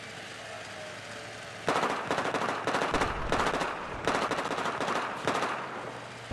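Automatic gunfire in Battlefield 4, loud rapid bursts of machine-gun fire in several separate volleys with short pauses between them, preceded by a quieter stretch of background game ambience.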